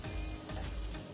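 Whole spices temper in hot oil for a Bengali dish, a soft, close sizzle and crackle at low level, with no voices.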